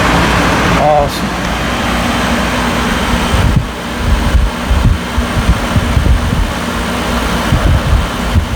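A JHS 10,000 BTU portable air conditioner runs close by with a steady whooshing fan and compressor hum. A short chirp sounds near the start and some handling bumps come later.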